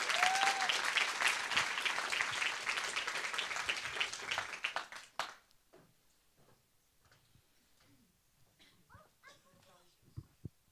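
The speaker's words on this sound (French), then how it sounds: "Un tonnerre d'applaudissements, s'il vous plaît" A French conference audience applauds loudly as a youth speaker is introduced at an event on the ecological and social transition, a dense burst for about five seconds, with a whistle early on, then fading to scattered claps and faint voices.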